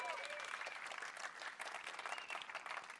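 Audience applause fills a keynote presentation hall at a gaming event, a steady dense clapping from a large crowd that holds evenly for a few seconds, fairly quiet in level.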